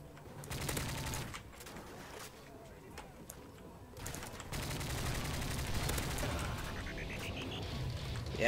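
Gunfire from Modern Warfare 3 multiplayer with recoil-heavy weapons, dense bursts of shots running through most of the stretch over a busy game mix, with a player talking over it.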